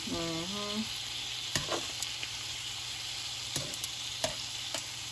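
Food sizzling on a home hibachi griddle, a constant close hiss broken by a few sharp clicks and scrapes of a cooking utensil.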